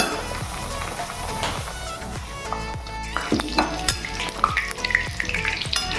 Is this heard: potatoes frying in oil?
yes